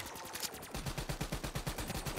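Rapid automatic gunfire from a weapon in Black Ops 3 custom Zombies, a steady stream of evenly spaced shots firing in a fast rhythm, fairly loud and close, with no voices over it.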